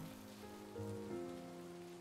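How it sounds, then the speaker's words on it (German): Heavy rain pouring as a constant broadband wash, mixed under sustained melancholy music tones that swell and shift. "Ey, guck mal hier, das gießt aus Eimern."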